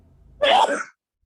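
A single sneeze bursts out loud and close in a quiet room during a Bible study gathering, a short sharp release lasting about half a second before silence returns.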